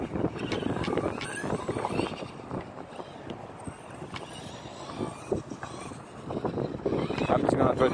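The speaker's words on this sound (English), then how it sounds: "It's kind of windy today." Gusty wind buffets the microphone with rumbling, uneven bursts, under a faint background of outdoor activity while an E-Maxx RC truck is run.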